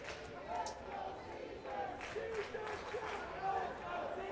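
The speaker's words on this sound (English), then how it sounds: "Nice to hear some positive chanting from the crowd." Baseball crowd at a high school A-Division championship game chanting in rhythmic bursts, moderately distant and steady over a low roar of ambient noise.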